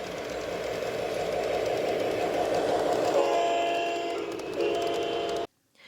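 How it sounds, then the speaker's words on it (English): A small garden train at Botanica, the Wichita Gardens, rolls past nearby, giving a steady rumbling run with rail clatter and a brief horn-like tone before the sound cuts off abruptly. "you walk into an area where they have the garden train"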